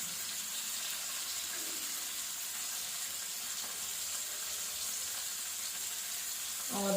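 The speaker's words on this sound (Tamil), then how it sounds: "எல்லா பக்கமும் அப்படி திருப்பி விட்டு ஃப்ரை பண்ணி எடுத்துக்கலாம்" Paneer cubes frying in hot oil in a pan, a steady faint hiss and sizzle running throughout with no voices.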